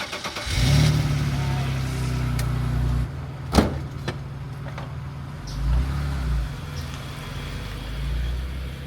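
A rough 1998 BMW Z3 with a six-cylinder engine and a 5-speed manual cranks and catches. It settles into a loud, steady idle at close range, with a few sharp clunks and a brief rev partway through.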